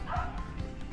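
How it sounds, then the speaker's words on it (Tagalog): Dog gives a short yip or bark, a quick sound close by in a home, with some background noise. "yung ating aso."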